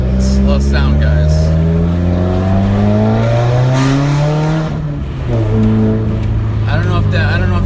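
A straight-piped 2015 Subaru WRX Stage 2+ droning loudly while driving, its exhaust note rising and falling through gear changes with a steady resonant rumble, close and dominant throughout.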